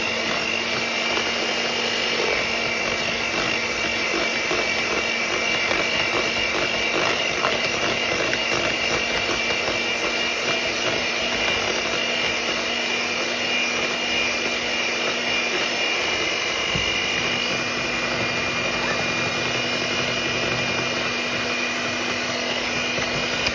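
An electric mixer beats ricotta cheesecake batter, a steady high whirring drone held at constant loudness for over twenty seconds, close by, with no speech.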